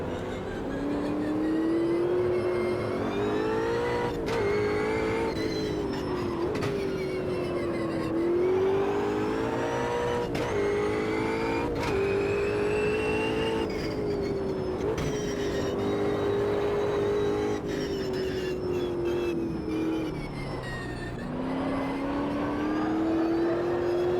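A race car engine in the sim racing game Automobilista 2 revs continuously, its pitch rising and falling as it shifts through gears, loud and steady throughout.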